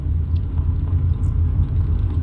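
In Euro Truck Simulator 2, a Scania Paradiso G7 1800 DD bus drives along an unpaved off-road trail, giving a steady, loud, low engine rumble with no talk.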